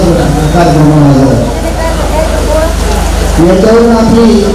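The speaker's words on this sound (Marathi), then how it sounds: "या कार्यक्रमामध्ये इतका पाऊस पडला असताना" Heavy rain patters steadily over an outdoor village gathering, a constant hiss beneath someone speaking loudly through it.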